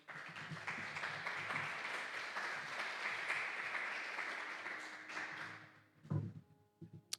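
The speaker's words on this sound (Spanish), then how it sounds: "Denle el aplauso al Señor." Church congregation applause swells and holds for about five seconds, a dense wash of clapping that fades out into a few scattered thumps and taps.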